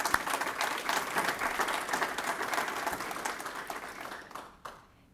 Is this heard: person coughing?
no